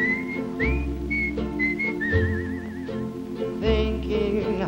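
A person whistles a melody with a wavering vibrato over a 1950s musical backing of bass and other instruments, in short phrases.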